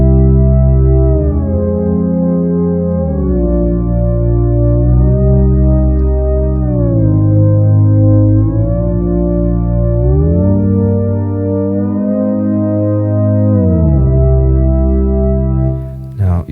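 Chord progression played on an Infinitone 2 synthesizer, sustained electronic chords with smoothly gliding pitches that slide between harmonies, loud and steady for about sixteen seconds with no talking.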